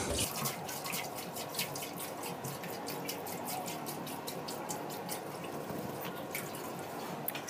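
Rust-tinged water drains and drips out of a motorcycle fuel tank during cleaning, a steady close trickle with scattered drips and splashes running throughout, with no talk over it.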